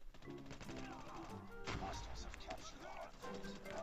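Rapid AK-117 gunfire in Call of Duty: Mobile, quick snapping bursts layered with game effects and a thud, heard beneath a player's talk.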